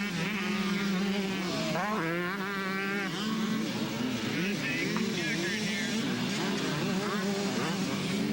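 Motocross bikes, including green bikes battling for second place, racing at a 1992 county fair motocross event; engines whine and rise and fall continuously with pitch sweeps as bikes pass, under a commentator's voice.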